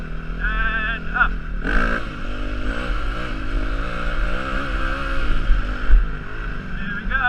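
A dirt bike engine revs hard during a sitting-down wheelie, a loud buzzing roar that climbs and holds with wind buffeting the microphone, and a voice speaks briefly before it.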